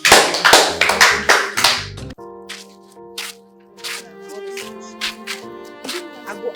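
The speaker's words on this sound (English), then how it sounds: "Class clap for her." Sharp, rapid hand claps from a class for a student, loud and close for about two seconds, then scattered lighter taps over a sustained musical tone.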